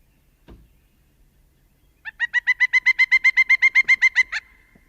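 A recorded pileated woodpecker call: a loud, ringing series of about fifteen evenly spaced notes over two seconds, preceded by a faint knock, in an otherwise quiet forest recording.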